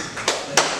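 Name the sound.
a single clap from an audience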